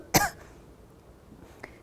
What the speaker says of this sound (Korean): 죄송합니다. 기침했어요.